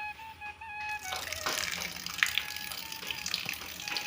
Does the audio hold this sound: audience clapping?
no